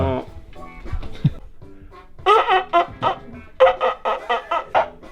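A handheld turkey call worked outdoors to imitate a turkey, giving a series of sharp, evenly spaced clucks and yelps in two bursts, preceded by someone talking.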